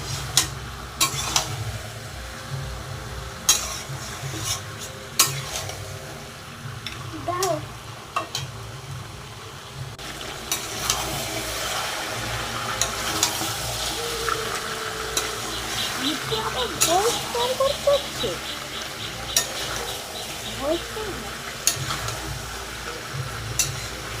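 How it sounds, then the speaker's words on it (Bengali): Fried potatoes stirred into half-cooked meat in a pan, a steady sizzle under repeated scraping and stirring strokes, close by, with faint background noise and no talk. "ভেজে রাখা আলুগুলো এবারে ছেড়ে দেবো, যেহেতু মাংস অর্ধেক সেদ্ধ হয়ে গেছে কষতে কষতে।"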